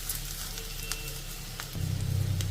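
Onion slices and potato fry in hot oil in a pan with a soft, crackling sizzle that swells louder near the end.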